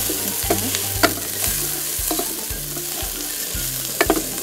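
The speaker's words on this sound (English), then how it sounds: "Give it a bit of a stir." Chinese long beans fry in a pan and are stirred, a loud continuous sizzle broken by regular scraping strokes of the utensil against the pan, with no voices.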